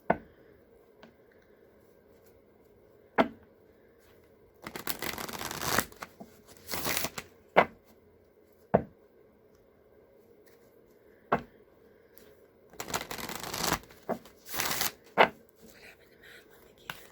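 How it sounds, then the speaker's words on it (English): Bursts of riffling tarot cards, a Herbal Astrology deck, come in two clusters, with sharp taps and clicks scattered between them in an otherwise quiet room. "I'll shuffle the Herbal Astrology deck now."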